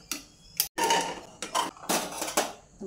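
A pressure cooker of cooked chickpeas is opened after the pressure has gone, with close metallic clanks and scrapes of the lid and pot in short bursts.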